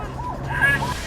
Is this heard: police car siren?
yes